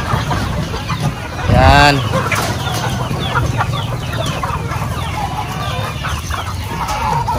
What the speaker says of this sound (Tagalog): papakawalan na po ni sir yung mga alaga niya manok